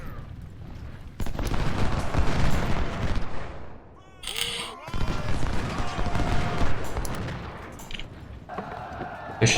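Artillery booms and crackling musket volleys in the Ultimate General: Civil War game, dense gunfire that briefly drops away and then resumes, with a voice talking over the battle.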